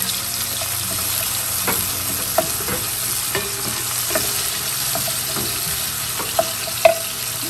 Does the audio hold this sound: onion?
yes